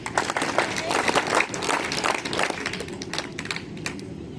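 An audience at a National Service Scheme camp claps in a dense, sustained round of applause that runs throughout and tapers slightly near the end, heard from close to the crowd.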